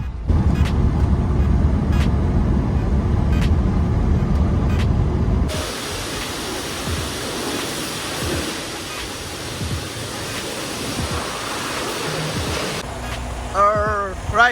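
Water spraying at a truck wash onto the load of a stepdeck truck: a loud, steady rushing hiss that changes character partway through and carries on without a break.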